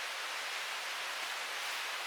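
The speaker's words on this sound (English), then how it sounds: "That sound of the running water nearby like that." Running water from nearby waterfalls along Seneca Creek in the fall backcountry produces a constant, smooth hiss of rushing flow, steady and unbroken with no voices or other sounds on top.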